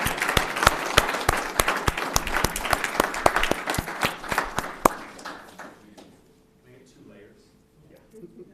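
A room at a Crime Stoppers news conference applauds contributors, a crisp burst of many hands clapping near and distinct for about five seconds before fading into quiet shuffling and murmured voices.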